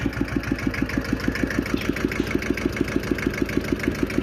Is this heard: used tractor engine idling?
yes